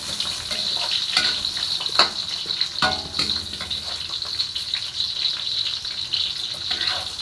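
Ginger and onion fry in a pan with a bright, steady sizzle, broken by scraping stirs and utensil knocks at a close distance.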